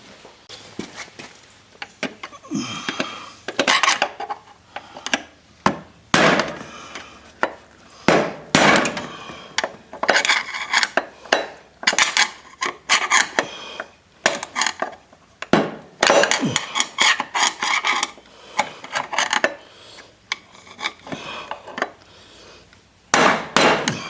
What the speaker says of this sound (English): Get a screwdriver and a hammer and see if I can't knock that outer race out the bottom